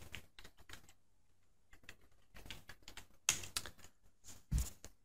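Someone types a command on a computer keyboard of a Raspberry Pi 3 setup, close, quick irregular bursts of key clicks separated by short pauses, ending with a couple of firmer strokes.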